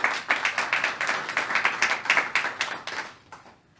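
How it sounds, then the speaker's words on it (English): A modest audience applauds the judges at a poetry event, scattered hand claps ringing out steadily for a few seconds before thinning and fading away. "Let's give our judges a round of applause."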